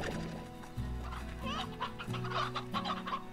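Many chickens in the video game Slime Rancher cluck and squawk together in busy, irregular bursts over a low humming music bed, close and fairly loud.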